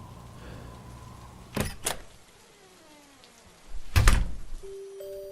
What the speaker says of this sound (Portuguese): Abri a porta